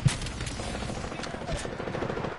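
Rapid hip-fire bursts of gunfire in the video game Apex Legends, a dense stream of shots rattling continuously over busy game noise.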